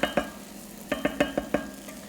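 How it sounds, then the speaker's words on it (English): Risotto rice toasting in butter in a pan is stirred in a handful of quick scraping strokes, spaced in two bursts over a faint, steady sizzle, close and fairly quiet. "Give the rice a little bit of stir right now."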